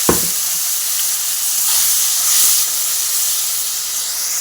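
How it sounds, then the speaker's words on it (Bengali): Spice masala sizzling in hot oil with onions already fried deep red, in a pan used for a fish curry; a steady, loud hiss and crackle runs continuously, swelling briefly midway, with no talking. "মশলাটা এখন কষুক"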